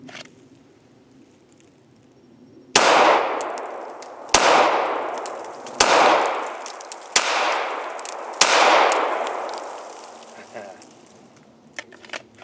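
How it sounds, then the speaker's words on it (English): Five pistol shots in slow fire ring out one at a time, loud and sharp, each with a decaying echo and a pause of a second or more between them. "let's do our 5-shot slow fire on number 1."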